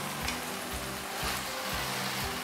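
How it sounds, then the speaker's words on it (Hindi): Potatoes and green beans frying in ghee: a steady, fairly quiet sizzle with a few soft rhythmic stirring thumps underneath, with no voices. "आलूओं को इनके साथ अच्छी तरह भून लें, बहुत ही टेस्टी बनती है।"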